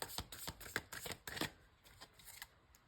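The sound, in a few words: shuffling tarot cards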